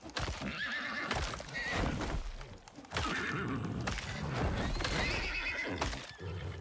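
Repeated loud horse whinnies and neighs in the video game Icarus, close and shrill, with hoof clatter between them and no talking.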